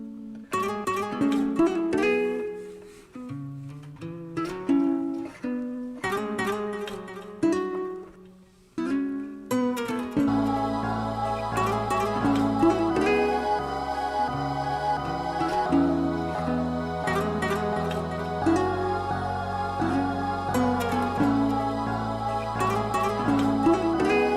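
Two layered guitar samples drenched in delay and reverb: plucked, echoing notes open sparsely, then a fuller looping pattern with deep low end kicks in and continues steadily to the end, with no talking.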